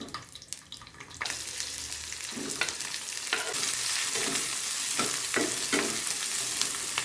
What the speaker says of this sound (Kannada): ಇದನ್ನು ಸರಿಯಾಗಿ ಸ್ವಲ್ಪ ಫ್ರೈ ಮಾಡ್ಕೋಬೇಕು ಮೊದಲಿಗೆ ಬೆಳ್ಳುಳ್ಳಿ ಅದ್ರ ಜೊತೆಗೇನೆ ಉಳ್ಳಾಗಡ್ಡಿ